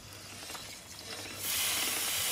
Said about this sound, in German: und sprühen die Ketten